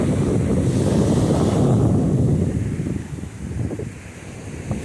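Big ocean waves break and wash on a Caribbean beach in a loud, steady roar with heavy wind buffeting the microphone, easing slightly toward the end, and no talk.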